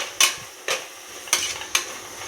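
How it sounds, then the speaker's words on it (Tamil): Chilli, coriander and turmeric powders are sautéed with tomato in a pan, a low sizzle broken by four sharp scrapes of a spoon against the metal at irregular intervals. "போட்டுட்டு இதையும் நம்ம நல்லா வதக்கிக்கலாங்க."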